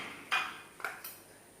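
Sugar, turmeric powder, yeast and salt are tipped into a bowl, giving three quiet clinks and soft taps spaced over a second or so, with no voices.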